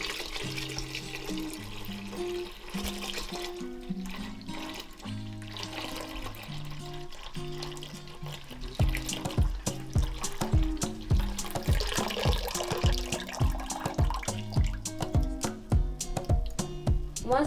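Milk poured into a cooking pot while making champurrado, a steady liquid stream running beneath background music that swells partway through.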